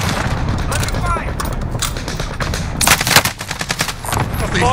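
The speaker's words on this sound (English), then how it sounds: "Under fire." Automatic and single gunfire in the Call of Duty Warzone video game comes as dense bursts of loud, rapid shots, with sharp cracks and booms over continuous battle noise, while a game voice speaks.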